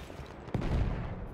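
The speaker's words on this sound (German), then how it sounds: "Ich kassiere hier einen Schuss nach dem anderen" A single sharp gunshot in Battlefield 1 cracks out in the middle, followed by a rumbling boom of battlefield noise and a steady low background din.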